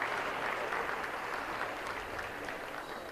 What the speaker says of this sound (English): Let's give all these kids a nice round of applause for getting back out there.